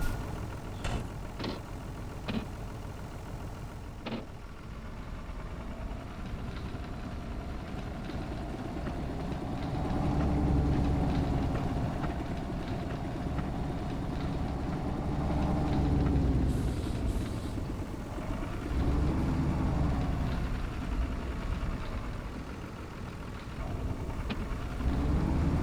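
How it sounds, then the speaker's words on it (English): A cold vehicle engine idles with a steady, close, low rumble for about 25 seconds, its revs rising and falling slightly twice. "I know the engine is still cold, but for a small move like this, it shouldn't really matter."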